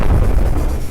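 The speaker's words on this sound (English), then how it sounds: "It's particle cannon, but fire anyway." A heavy, booming particle cannon blast from the video game From the Depths fills the moment with a dense low rumble, loud and without speech.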